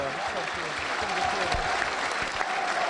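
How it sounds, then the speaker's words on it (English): A Burnley football crowd applauds a substituted Burnley player at a First Division match, a steady wash of clapping and crowd noise with a commentator's voice running over it. "Burnley's longest serving player gets a great reception from the Burnley crowd"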